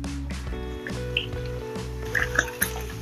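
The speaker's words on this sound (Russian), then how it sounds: "Включаем средний газ. Немного масла. И высыпаем сюда сердечки." Chicken hearts tipped into a pan with a little hot oil over medium gas, giving a steady sizzle with wet squishy pops and a few brighter crackles.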